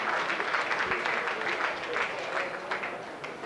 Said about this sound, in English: And appreciative applause from the Charlton fans for Chris Waddle.